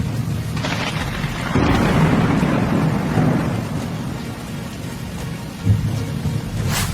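Heavy cloudburst rain pours steadily in Pakistan while thunder rumbles through it, with one deep roll swelling in the middle and a sharper crack near the end, loud and close throughout.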